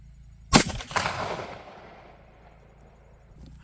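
A single loud gunshot from a CVA Optima V2 muzzleloader rifle cracks sharply, followed by a long rumbling echo that rolls away and fades over a few seconds.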